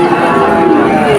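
A calf at the Monirampur cattle market lets out a single long, close moo, with people talking nearby.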